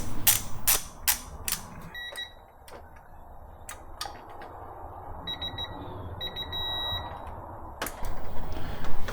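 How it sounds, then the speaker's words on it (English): A digital torque wrench tightening bolts during an oil cooler replacement on a Land Rover Discovery 4 3.0 V6, with ratcheting clicks followed by several short high electronic beeps and a sustained long beep. "then will go long beep when you hit the proper torque"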